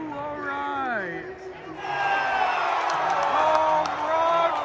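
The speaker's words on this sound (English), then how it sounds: "A 3-run home run. Bringing the crowd back to life here in Baltimore." Stadium crowd at an Orioles versus Athletics baseball game in Baltimore cheering a three-run home run: a voice is heard at first, then a broad, loud roar of cheers and whoops swells and holds steady.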